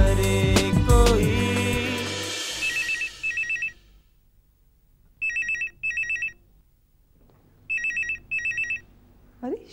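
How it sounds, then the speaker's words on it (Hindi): A telephone rings in repeated double bursts of a bright electronic bell, each pair separated by a pause, following a loud musical sting at the start. "अरे शीला, तू फोन क्यों नहीं उठा रही है?"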